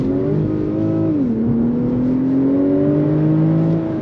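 A 2015 Infiniti Q50 Hybrid Sport accelerating on a wet road, a loud steady engine and electric-motor whir heard from inside that shifts pitch midway and then climbs smoothly, with no talking.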